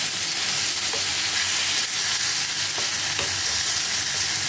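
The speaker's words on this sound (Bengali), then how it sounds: "এটা এর সাথে ভালো করে মশলাটা মিক্স করে নেব।" Drumstick stems and potatoes stir-fried in spice paste in a pan give a steady, close sizzle with scraping stir strokes throughout, no voices.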